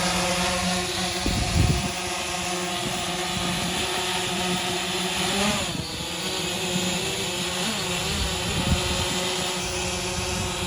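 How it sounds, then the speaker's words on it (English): Small drone flying nearby, a steady high-pitched whining hum with stacked harmonic tones, the pitch shifting slightly as it maneuvers, with some wind buffeting underneath. "But here's the drone."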